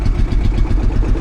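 A vintage diesel tractor engine idles steadily at a steam rally, a low, continuous chugging rumble with a regular throb, close and fairly loud, no voices.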